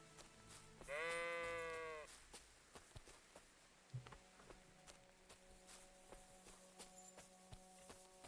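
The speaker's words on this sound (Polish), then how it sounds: "Chodź owco." A sheep in the game Kingdom Come: Deliverance II gives one loud, wavering bleat up close, followed by footsteps, ambient game sounds and someone speaking.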